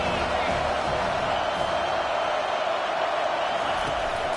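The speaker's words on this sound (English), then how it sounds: "Big third down as the crowd gets behind this defense." A football stadium crowd roars steadily behind the home defense on a big third down, a dense, unbroken wall of cheering that holds at the same level throughout.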